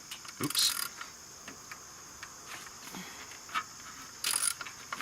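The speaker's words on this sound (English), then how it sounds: "We're going to use a 10mm socket." 10mm socket wrench removing EGR valve bolts on a 2007-2009 Chevrolet Equinox 3.4L V6, two short bursts of fast ratchet clicking, close, separated by quiet scattered mechanical ticks.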